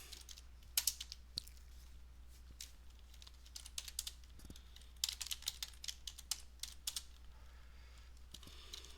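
Quiet clicking of a computer keyboard being typed on at a desk, in irregular clusters of keystrokes with short pauses, alone over a steady low hum.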